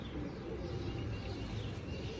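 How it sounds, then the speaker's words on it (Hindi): A panther pigeon softly cooing in a loft, low rolling coos repeating faintly against a steady background hum, with no voices. "ये है जी दोस्तों पैंथर कबूतर"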